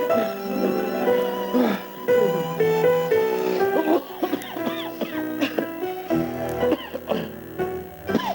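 Coughing in a 1985 Vicks NyQuil television commercial: several distinct, close coughs and throat sounds come in uneven bursts, mixed with other voice sounds and tones.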